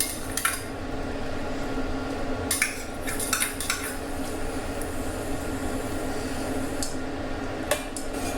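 Moong dal mixture, roasted, soaked, cooked and mashed, being stirred in a pot, with a steady low kitchen hum and occasional light clinks of a utensil against the pot.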